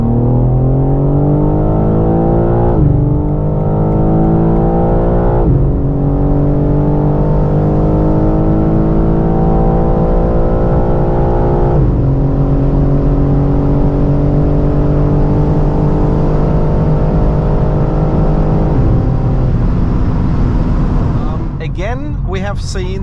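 A stock 612 hp BMW M3 xDrive accelerates hard from 0 to 200 km/h, its loud engine rising in pitch through each gear, with four brief dips at the upshifts. It runs steady and close for about twenty seconds before easing off.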